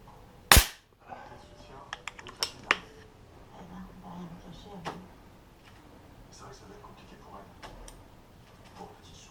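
A Beeman P17 air pistol fires Gamo Match pellets: one sharp, loud crack, then a scatter of small clicks and taps as the pistol is handled, with quiet room sound afterward.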